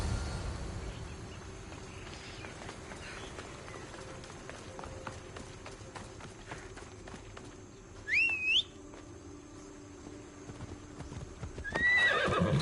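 A horse in the video game Assassin's Creed Odyssey gallops with rapid rhythmic hoofbeats, neighing once sharply midway and again near the end, close and clear.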